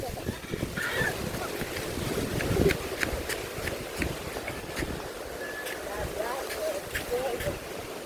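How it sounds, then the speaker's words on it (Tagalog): Strong wind buffets the microphone outdoors, a steady low rumble with gusty surges throughout, while a person talks over it. "Sobrang lakas ng hangin"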